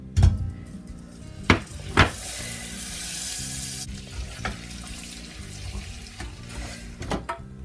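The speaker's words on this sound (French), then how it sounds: "je vais rajouter dedans notre beurre." Butter melting into hot caramel in a pan gives a bright steady sizzle, with a few sharp clattering knocks of a utensil against the pan over the hiss.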